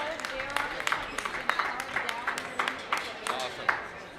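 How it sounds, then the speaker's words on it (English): Audience applause for sponsors at the 2013 Nevada County Fair Junior Swine Show, a steady patter of many hands clapping at moderate distance for about four seconds, with a few louder claps standing out. "Let's have one more round of applause for our sponsors for supporting these kids today"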